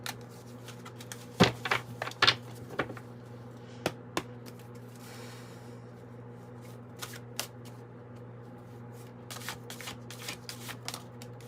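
Tarot cards being shuffled close by, with bursts of crisp riffling and sharp snapping taps in irregular clusters over a quiet, faintly humming room, no talking.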